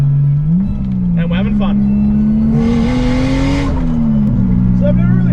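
A Toyota 1JZ-GTE turbocharged straight-six in a 2001 JZX110 drones loudly from inside the cabin on a hilly road, its steady pitch rising and falling with throttle, with a brief turbo whoosh midway and someone talking briefly.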